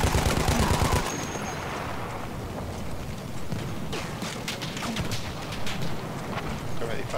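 Battlefield 1 machine gun fire crackles in dense, rapid bursts, loud and close at the start and then continuing as a busy spread of shots over rumbling battle noise.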